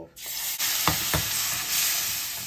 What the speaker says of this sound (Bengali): পেঁয়াজ বাটাটা এবার একটু কষাবো, একটু এর মধ্যে ভাজা ভাজা হবে।